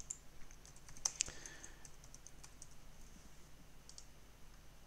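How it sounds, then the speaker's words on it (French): Quiet, sparse clicking of computer keyboard keys, a few light taps with a couple of sharper clicks near the start, over a low background hum. "Donc, je vais taper."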